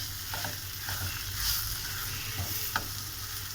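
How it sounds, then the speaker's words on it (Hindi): Potatoes sauté in a pan, with a soft continuous sizzle and occasional scraping strokes as they are stirred, fairly quiet and close. "बस आलूओं को थोड़ा सा सोते कर लें और इसे मिक्स कर लें"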